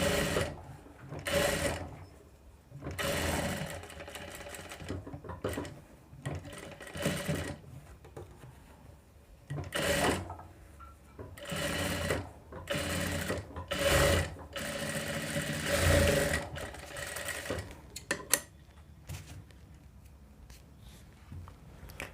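A sewing machine stitches a boat-neck blouse in fast rattling runs of several seconds each, separated by short pauses, close and clear with no talk.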